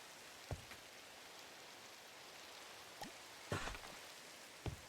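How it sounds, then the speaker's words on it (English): Rain falls steadily in the Minecraft video game as a constant hiss, with a few soft thumps and brief bursts scattered through it. "Also, it's raining, and I don't want to have to deal with that."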